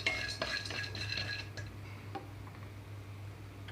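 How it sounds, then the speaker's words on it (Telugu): Lentils dry-roasting in a pan over a low flame, with faint clinks and light scraping as a spoon stirs them, soft and intermittent with a low hum beneath. "ఇక్కడ పాన్ హీట్ అయిన తర్వాత నేను తీసుకున్న పప్పులు మొత్తం వేసేసుకున్నాను లో ఫ్లేమ్లో ఉంచి వేయించుకుంటున్నాను"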